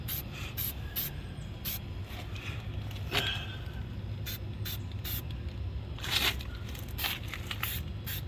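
A spray paint can lays a light coat on Chrysler fake tips in a series of short hissing bursts, close and fairly quiet, with brief pauses between passes.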